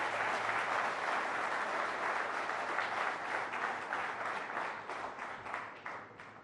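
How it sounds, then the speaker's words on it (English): A large audience at the News18 Rising Bharat Summit 2024 applauds the Prime Minister, a dense, sustained wash of clapping that holds steady and then begins to thin out toward the end. "Please give him a round of applause."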